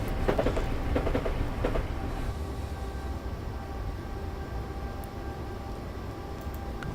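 A train in a train simulator game runs steadily, with a continuous rumble and faint rail clatter. A few rhythmic clicks come early, then the sound settles into an even moderate drone with no talk.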